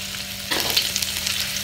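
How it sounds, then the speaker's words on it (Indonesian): Aromatics with curry leaves and dried chilies stir-fried for soy sauce chicken: a low hum gives way halfway to a loud, crackling sizzle with stirring scrapes. "sekarang kita tumis kesemuanya sehingga naik bau ya, sehingga bahan-bahan ni layu"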